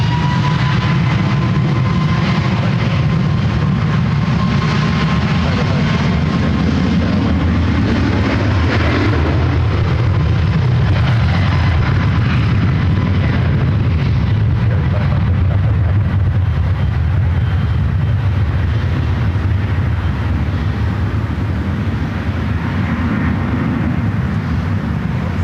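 A seven-year-old United Boeing 777-300ER lines up on runway 1 right at SFO, bound for Newark, with a loud, steady broadband jet roar and a slowly shifting engine tone throughout, with no talk.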